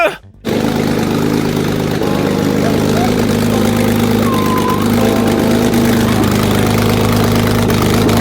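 Rebuilt, flood-damaged Porsche GT3 RS engine running loudly after a brief cut at the start, with a steady, rough idle that drones on continuously, close by and dominant.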